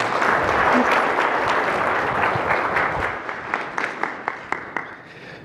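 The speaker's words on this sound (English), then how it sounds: "Let's give another round of applause for Amisha." A conference audience at a product marketing summit in Austin applauds a panelist, a loud wash of many hands clapping that thins out toward the end into a few distinct, evenly spaced individual claps.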